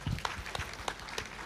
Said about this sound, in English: Please clap for Lucy.